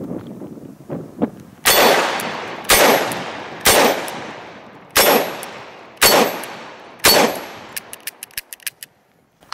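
Six loud, sharp gunshots from a Dan Wesson 715 .357 Magnum revolver firing Hornady 140-grain and Remington Golden Saber rounds, spaced about a second apart outdoors, each with a ringing tail, followed by faint clinks.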